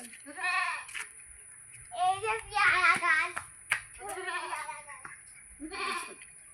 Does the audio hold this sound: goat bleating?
yes